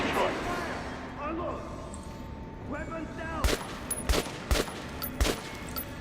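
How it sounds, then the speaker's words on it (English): Guns fired downrange at a shooting range in Metro: Last Light, a series of about five loud, sharp shots in the second half, close, after a stretch of talking and ambient noise. "I guess we'll fire a couple of rounds downrange."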